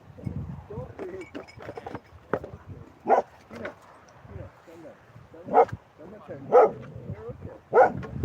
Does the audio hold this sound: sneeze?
no